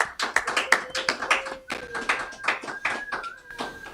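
An audience claps after a performance on a TV show, giving a round of applause with dense, uneven hand claps, with brief voices heard amid the clapping.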